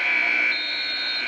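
A basketball arena's game clock buzzer sounds at a 1996 Ball State versus Troy State men's game, a loud, sustained, steady electronic tone lasting over a second.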